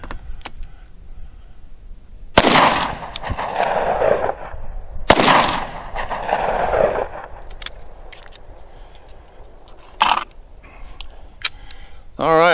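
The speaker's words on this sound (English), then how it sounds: "I'm gonna fire two more rounds with the Model 60" Two sharp, loud gunshots about three seconds apart come from a Model 60 snub-nose revolver with a 2-inch barrel firing .38 Special +P hollow-point rounds outdoors, each followed by a rolling echo and then faint handling clicks.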